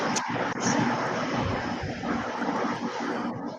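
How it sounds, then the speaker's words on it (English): Airplane flying overhead outside near a car park, a broad, steady roar that fills the whole stretch, with faint voices and small bumps close by. "That's a plane going over."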